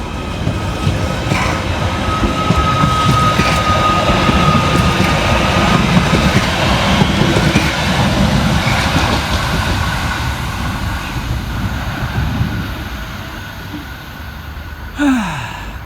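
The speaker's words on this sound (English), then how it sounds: "Next to depart is 777-008 with the 1459 Merseyrail electric service from Liverpool Central through to Chester." A Merseyrail Class 777 electric train pulls out of Liverpool Central toward Chester with a loud, steady rushing roar and a brief faint whine, fading slightly near the end.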